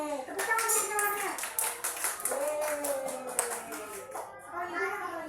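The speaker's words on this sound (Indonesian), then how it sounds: "tepuk tangan untuk kawannya" Schoolchildren in a classroom clap together for a classmate in brisk, quick claps, while children's voices carry over the applause throughout.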